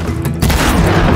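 Game impact in Horizon Zero Dawn as a headshot lands on a machine: a loud, dense boom-like crash that swells after a brief lull and keeps rumbling, with no talk over it.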